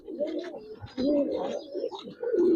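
Giribaz and coloring pigeons, red-eyed male and female pairs, coo in low rolling bursts close by, with a short pause near the one-second mark before the cooing resumes louder.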